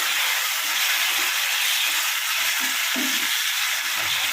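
Tomato puree frying in oil for a chicken curry gives a steady, loud, close sizzle and hiss that runs throughout, with faint stirring scrapes underneath and no voices.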